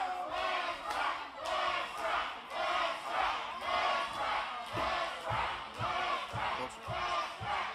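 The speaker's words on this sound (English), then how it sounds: "Listen to this crowd chanting, knowing the NWA World's Heavyweight Championship is on the line." Wrestling crowd at an OVW show chanting with an NWA World Heavyweight Championship match on the line, a large arena audience repeating a rhythmic chant in steady pulses, loud and sustained.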